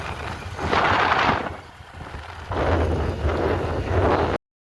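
Rain falls through wind on a wet Gujarat street, with two long roaring gusts buffeting close over a softer wash of rain, cutting off abruptly at the end.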